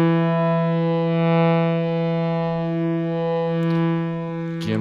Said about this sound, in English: We'll just give it some echo.